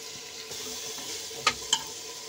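Soya chunks roasting in a pan for vegetable soya pulao give a steady low sizzle, with two sharp clinks of a utensil against the pan near the end.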